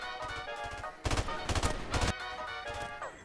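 A gun firing bursts in Modern Warfare Remastered, with a loud cluster of rapid shots in the middle between softer rhythmic firing at the start and end.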